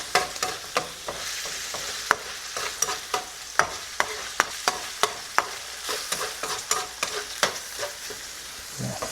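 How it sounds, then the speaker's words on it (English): Ground beef sizzles in a frying pan as a spatula stirs it, a steady hiss broken by regular sharp scrapes and clacks of the utensil against the pan, close and clear. "I'm gonna give everything like 5 more minutes for the beef to start cooking and the meat."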